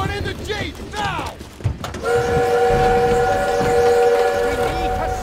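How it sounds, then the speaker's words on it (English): Armored train in the Call of Duty WW2 video game sounding a long, loud steady whistle after shouted voices and rumbling gunfire-like noise during a sabotage mission. "We need to stop that train!"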